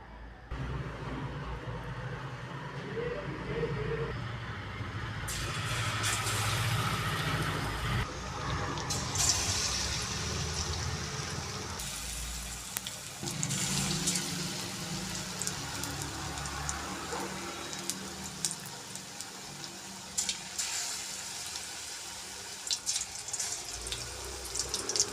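Egg bondas, batter-coated eggs, frying in hot oil, giving a steady broadband sizzle and bubbling that carries on unbroken for the whole stretch with no talking.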